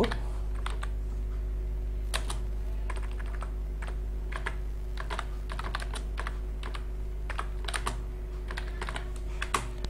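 Fingers type on a computer keyboard into a Word document, producing uneven clusters of quick, close keystrokes with short pauses, over a steady low electrical hum.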